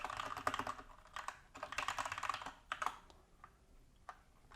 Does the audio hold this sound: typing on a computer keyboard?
yes